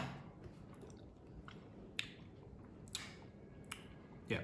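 Someone chews a bite while tasting a creamy dip of mayonnaise and sour cream made for fried chicken, giving soft, close, wet chewing with a few sharper clicks over quiet background hiss.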